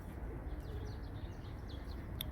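Arab white-tail pigeon cooing softly while coming in to land, faint, soft calls over a steady rumble of wind and outdoor background noise, with a brief higher chirp near the end.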